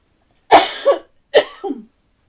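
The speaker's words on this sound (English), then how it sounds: "Excuse me, didn't mean to cough." Two separate coughs from one person nearby, each a sharp burst trailing into a softer throaty tail, spaced under a second apart with quiet around them.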